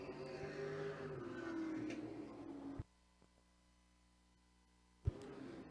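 Race cars roar past at Havasu 95 Speedway, an engine note swelling and sliding downward as they pass, then an abrupt near-silence broken by a thump before the loud engine sound returns.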